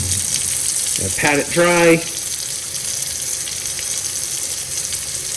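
Water runs steadily from a tap as a silver eagle coin is rinsed beneath it, a continuous broadband wash heard throughout, with a brief spoken phrase partway through.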